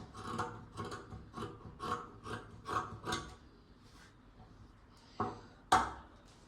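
Scissors cut dress fabric along an armhole curve in a string of short, rhythmic crunching snips, close and fairly quiet, followed by a pause and two sharper snips.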